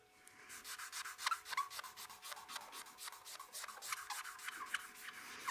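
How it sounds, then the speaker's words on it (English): A shiny CA glue finish being hand-sanded with sandpaper, a rapid run of close, soft rasping strokes in steady back-and-forth rhythm, quiet and alone. "Let's go ahead and sand those."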